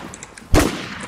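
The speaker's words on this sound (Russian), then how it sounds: "Я два выстрела выдержал" A single loud, close gunshot blast in the online survival shooter Infestation, with a sharp attack and a short decaying tail, preceded by a few faint clicks.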